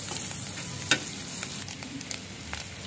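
Shrimp frying in a pan for a Bengali taro leaf (kochu shak) dish, a soft steady sizzle with one sharp clatter near the start, moderately close and heard without any talking.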